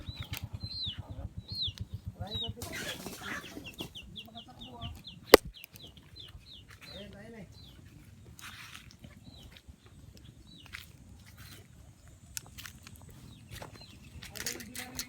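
Native chickens cluck and squawk amid bursts of flapping wings and scuffling as they are chased and caught, with people talking throughout.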